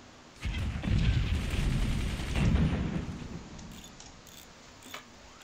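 Sniper fire in the artillery fort-battle game Forts: a dense burst of gunshots and heavy booms that builds quickly, holds for about two seconds, then fades into lighter distant cracks.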